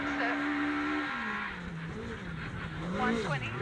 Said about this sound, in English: You can hear that car just trying to get the traction as he pulls up this long climb